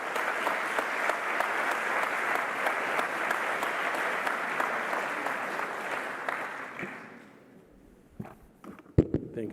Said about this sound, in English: Please join me in giving him a warm applause as he shares his insights with us.